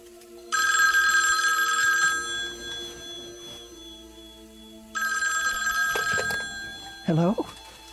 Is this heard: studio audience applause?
no